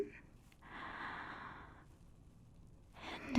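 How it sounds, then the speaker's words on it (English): Close, soft-spoken ASMR medical exam setting with a single slow, audible inhale of a deep breath, breathy and quiet, near the microphone. "if you can just do me a favor and take a deep breath in"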